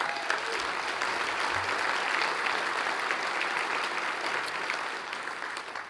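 Audience at a city state-of-the-address event claps in sustained, dense applause that fills the room and tapers slightly toward the end.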